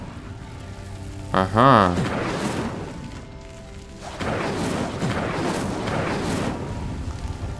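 An Incendio fire spell lights a pyre in Hogwarts Legacy: a short bright magical chime, then a whooshing burst and a sustained roar of catching flames, with a brief spoken interjection.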